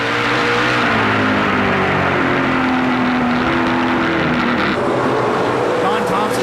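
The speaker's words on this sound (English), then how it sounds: "you can hear the engine noise getting a little bit more frantic from Don Thompson Jr." A loud, continuous race car engine roar with steady droning tones at the 2010 Lucas Oil National 250, a packed motor racing soundscape with other engines around.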